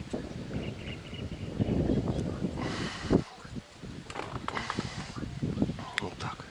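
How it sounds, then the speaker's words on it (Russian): Wind buffeting the microphone at a lake while fishing, rising in gusts as rough rumbling bursts, with someone talking over it. "Блин, ветер."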